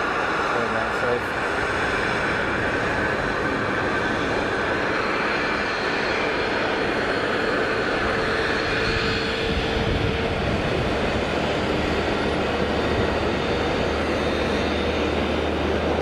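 An airliner landing at Geneva Airport sends a loud, sustained engine roar that rumbles on unbroken for the whole stretch, while a voice speaks over it at times.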